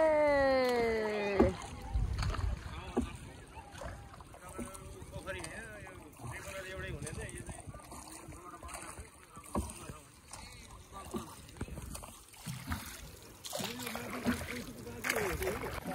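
A rowing boat moves across the Koshi at sunset, with soft water sloshes and splashes, occasional oar knocks and wind, while people talk throughout.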